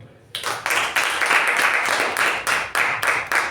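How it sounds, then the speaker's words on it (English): Audience applause for the Toastmaster of the day at a club meeting, a dense burst of many hands clapping that starts abruptly after a brief quiet moment and holds steady and fairly loud, with slight pulsing swells. "a huge round of applause to our Toastmaster of the day"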